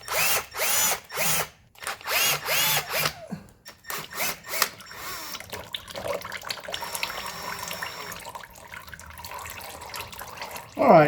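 A power screwdriver whirs in short bursts, removing small Phillips screws from a filter on a 1985 Mercedes 300SD, with several quick on-off runs followed by a longer, quieter stretch of handling noise.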